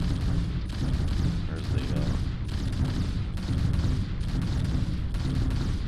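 Particle weapons on a single-engine cross-shaped starfighter in Starfield firing in rapid regular bursts, loud and close, a pulsing barrage of booming shots with brief gaps between volleys while someone talks over them.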